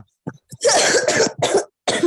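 A few short, harsh coughs in quick succession, close and loud, with brief silences between bursts and no talking.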